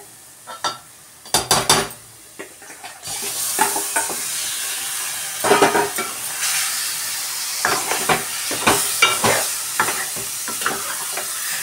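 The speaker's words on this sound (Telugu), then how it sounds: "ఇలా మనం చికెన్ వేసుకోవాలి." Chicken pieces hit a hot pan for coconut chicken curry, sparking a sudden loud sizzle that keeps hissing steadily, broken by sharp clatters and scrapes of stirring close by.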